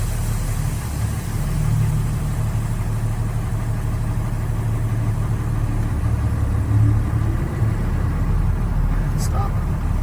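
A Class B truck idles in second gear after its parking brake is released and creeps slowly forward, giving a steady low engine rumble that holds throughout at a close, even level.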